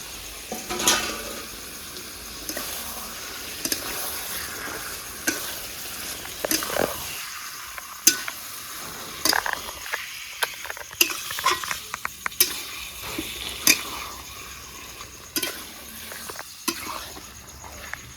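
Spiced, marinated chicken with masala frying in a pan as water is added, a soft broadband sizzle and patter with intermittent stirring scrapes, fairly quiet and close, with faint background voices.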